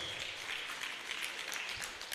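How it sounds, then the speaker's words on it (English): Applause from a seated book-launch audience welcoming a professor, a dense, steady patter of many hands, fairly faint and distant throughout. "Join me in welcoming with a rousing round of applause, Professor A.T. Ahmed Tijani Mora."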